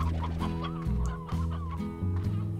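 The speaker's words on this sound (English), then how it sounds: "We could also feed them hen hens. There's plenty of them in here." Hens clucking in the video game Slime Rancher, a few short clucks over a steady musical backdrop, fairly close and continuous across the scene.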